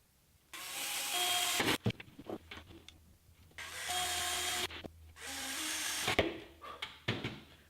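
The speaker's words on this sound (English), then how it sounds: "We have the areas marked for our holes to be drilled at the top and the bottom." A power drill bores holes in a DIY LED photography light, whirring close by in three sustained bursts of a second or more, separated by clicks and handling noises.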